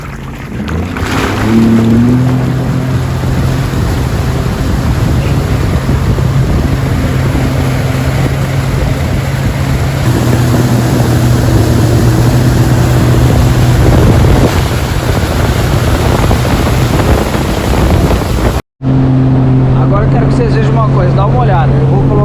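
Boat engine running steadily and loudly, with wind and water noise on open water, while towing a wakeboarder with the throttle in forward gear; a short dropout occurs near the end.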